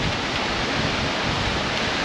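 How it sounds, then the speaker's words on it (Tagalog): Heavy rain and strong wind roar in a steady, dense wash at a motorbike campsite near Mayon in Tabaco, Albay, during a typhoon, with no voices over it. "Lumalakas yung hangin."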